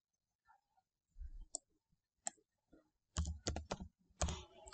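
Keystrokes on a computer keyboard while typing a file name and extension: sparse, close clicks at first, then tight bursts of rapid clacking taps with short pauses, and no talk.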